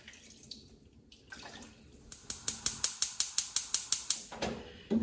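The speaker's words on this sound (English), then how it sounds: "I'm going to put like a little bit of water in here." Water is poured into a pot of washed chicken in a home kitchen. A soft splashing pour is followed by a run of about a dozen evenly spaced, sharp clicking or tapping sounds, with quieter background noise around them.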